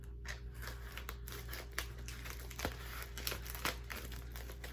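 Several quick snipping and crinkling sounds close by, irregularly spaced against a low steady hum, like scissors cutting through thin plastic.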